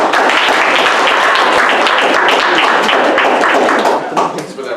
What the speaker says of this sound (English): Thanks for that rousing applause.